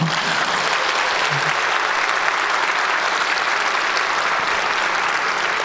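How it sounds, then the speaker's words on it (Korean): Loud, sustained applause fills a hall at a church teachers' retreat as the audience cheers young teachers, with dense and even clapping from start to finish. "우리 청년 선생님들 박수 한번 좀 크게 쳐주십시오"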